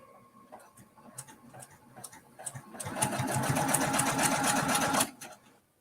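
A sewing machine stitching quilt binding starts with a few slow, soft ticking stitches, then speeds into a steady, close mechanical whir with rhythmic clatter for about two seconds before stopping.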